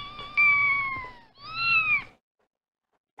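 A kitten meows twice in close succession, two drawn-out, clear cries, followed by a brief faint sound at the end; no talking.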